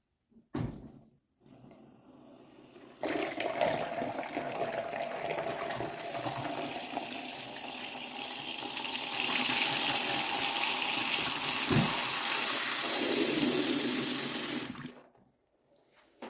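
A newly installed lever tap on a bathroom vanity sink runs steadily for about twelve seconds, a close, hissing rush of water into the basin that swells slightly before being shut off, with a faint click at the start.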